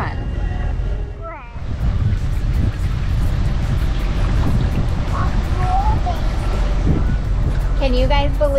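A sailing catamaran's engine drones steadily at sea under loud wind noise and water wash, with people talking and calling out over the motor.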